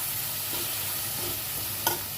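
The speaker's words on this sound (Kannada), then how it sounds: "ಹೀಗೆ ಈಗ ಬೆಳ್ಳುಳ್ಳಿ ಮತ್ತು ಈರುಳ್ಳಿ ಹಾಕೊಂಡಿದ್ದೀನಿ. ಸೊ ಅದನ್ನು ಸ್ವಲ್ಪ ಫ್ರೈ ಮಾಡ್ಕೊಳ್ಳಿ." Garlic and onion frying in a pan for a tomato curry, giving a steady close sizzle throughout with a brief stirring scrape near the end; no one talks.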